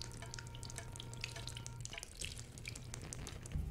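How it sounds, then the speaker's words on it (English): Irregular drips of blood fall with soft, wet taps over a faint low hum, spaced unevenly and fairly close, in a film scene. "the sound of dripping blood is heard"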